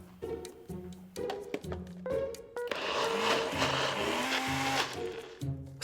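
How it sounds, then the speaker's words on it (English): A blender whirs loudly as it purées a soft, glossy mixture for an air-fryer bake, starting in short stuttering pulses before settling into a steady, sustained grinding roar. "Now blend the whole thing."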